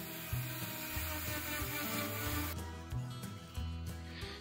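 Wooden parts of a homemade soapbox cart with iron axle bars being sanded by hand with sandpaper, a steady rasping scrape with rhythmic low thumps, close and fairly loud, growing brighter and harsher midway through.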